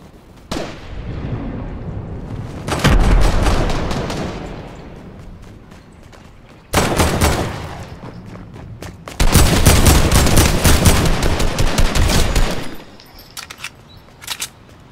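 Rapid bursts of gunfire from the video game Fortnite crackle in dense, loud volleys separated by short lulls, with sharp repeated shots stacking into sustained fusillades.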